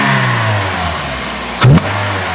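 Daihatsu Gran Max engine running at a slightly raised idle while still cold, a loud steady mid-pitched hum close by, broken by one short louder burst partway through.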